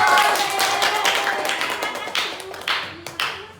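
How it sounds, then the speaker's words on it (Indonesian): Students clapping in an Islamic religious education classroom, a short burst of overlapping hand claps that thins into a few scattered claps, with a voice briefly heard. "Tepuk tangannya."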